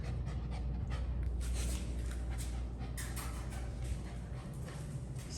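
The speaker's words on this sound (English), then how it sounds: "I wanted you to get a look at your puppy." Goldendoodle puppy panting steadily and close up, quick continuous breaths over a constant low rumble of handling noise, with no talking.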